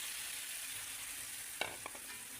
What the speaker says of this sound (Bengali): এবার মশলাটা কষাই।